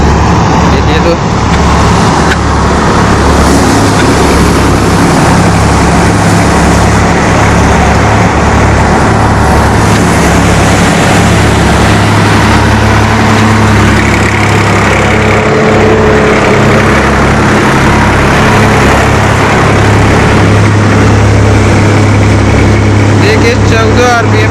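A Swaraj 960 tractor engine runs loud and close at a steady, throbbing idle, with talk heard over the continuous rumble.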